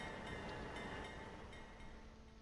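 A train rumbles along in the railway simulation game Transport Fever 2, a steady, moderately quiet rolling drone with faint rhythmic clatter and no talking.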